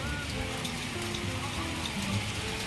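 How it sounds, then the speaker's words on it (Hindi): Heavy unseasonal rain in Allahabad falls in big, fast drops, a dense steady hiss of downpour spattering on surfaces with no talk over it. "इलाहाबाद में पानी गिरने लगा है, सर देख सकते हैं जो है काफ़ी तेज बूंद आ रही"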